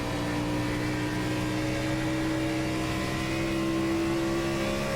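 Race cars running side by side in iRacing, their engines blending into a sustained, steady tonal drone with a slowly rising pitch, loud and constant throughout.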